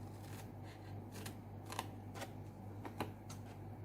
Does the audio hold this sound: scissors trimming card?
yes